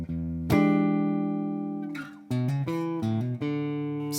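Electric guitar riff: a long ringing note, then quick plucked notes with slurred hammer-on changes, clean and close.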